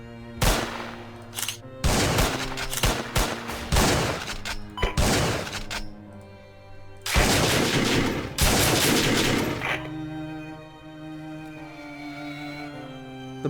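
Bursts of gunfire, including buckshot and revolver shots, erupt in the World War 1 real-time strategy game Command of War, loud volleys and rapid fusillades separated by brief pauses.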